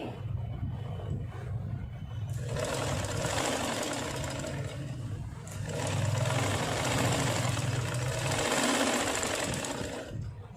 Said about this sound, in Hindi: तो ये मैंने इसकी एक सिलाई निकाल ली है